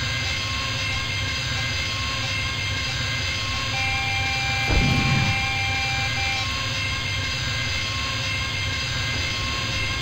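A TIE bomber flies in the TIE Fighter space combat game, its engine producing a steady, droning roar with sustained tonal whine, broken midway by a brief burst of impact or firing noise, then continuing evenly.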